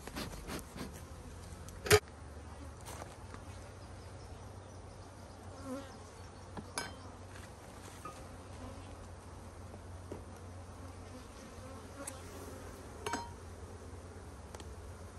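Honeybees buzz steadily around an opened beehive during a honey harvest, a faint continuous hum with occasional soft clinks and small knocks.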